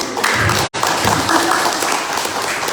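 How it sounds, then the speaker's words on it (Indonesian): A crowd claps for an older speaker on stage in a loud, continuous burst of applause, with a brief sharp dropout near the start and steady clapping afterward. "Tepuk tangan dong yang 60"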